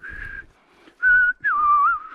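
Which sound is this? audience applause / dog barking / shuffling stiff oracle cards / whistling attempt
whistling attempt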